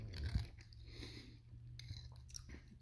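Someone eating cabbage and mixed vegetable soup with smoked sausage and ground beef, close quiet bites and soft chewing, with a sharper bite at the start, no talking.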